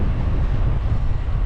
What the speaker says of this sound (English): It's absolutely brutal headwind down this valley.